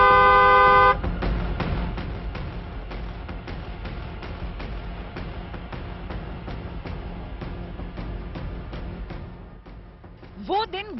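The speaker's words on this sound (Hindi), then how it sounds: "इसलिए हॉर्न बजाना जरूरी है।" A car horn gives one loud, steady honk of about a second at the very start, followed by continuous talking over a low background hum.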